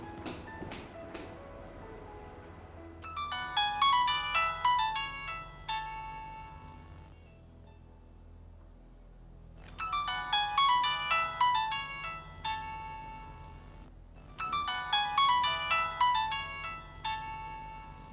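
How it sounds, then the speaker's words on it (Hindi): Phone ringtone plays a repeating melodic chime in three bursts separated by pauses, moderately faint indoors at night. "इतनी देर क्यों लगा दी फोन उठाने में?"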